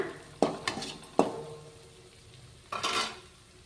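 Turmeric, coriander and cumin powders go into hot oil in a pan for masala churumuri. A few sharp clinks of a utensil against the pan are followed by a soft, brief sizzle, quiet and close.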